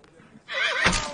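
A wild mustang lets out a loud, close neigh, starting abruptly and rising into a strained whinny that lasts under a second, with a brief louder burst near the end.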